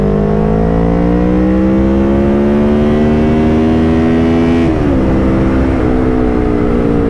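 A 2019 Kawasaki Ninja 650 motorcycle accelerating hard in second gear, its engine note climbing steadily for several seconds before a sudden drop as the throttle closes, then settling into a lower rumble with wind noise.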